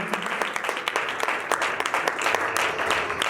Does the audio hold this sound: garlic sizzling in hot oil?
no